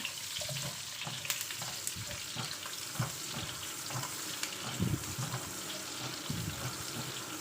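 Chopped onion and garlic sizzle in hot oil in a pan for a Filipino pinakbet after shrimp paste goes in, a steady crackling fry with occasional stirring clinks and scrapes, close and continuous.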